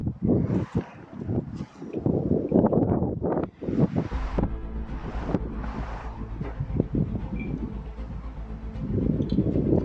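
Strong gusts buffet the microphone on a golf course, loud low rumbling that rises and falls over ten seconds, with a brief lull near three and a half seconds.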